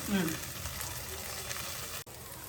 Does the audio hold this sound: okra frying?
yes